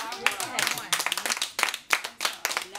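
A small group at a nephrology and rheumatology staff huddle claps briefly, a loose run of distinct, close hand claps with voices talking over them.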